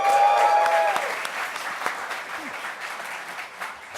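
An audience applauds at a voice acting talk, steady sustained clapping from a roomful of people that slowly thins toward the end.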